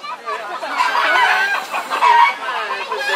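A flock of hens and a rooster cluck and crow from up in a tree, loud and continuous, with no talking over them.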